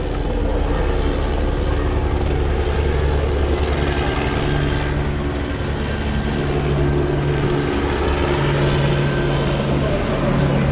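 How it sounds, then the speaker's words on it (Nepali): Helicopter circling over the flooded Melamchi bazaar during rooftop rescues, a steady rotor and engine drone with a low throb running throughout, with faint background noise. "हेलिकप्टर घुमाइ घुमाइ छ है ल"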